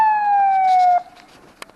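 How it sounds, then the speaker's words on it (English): An ambulance siren passing through traffic, a loud steady wail that slides slightly downward and cuts off after about a second, leaving faint road noise and a brief click. "We got the ambulance over there going through."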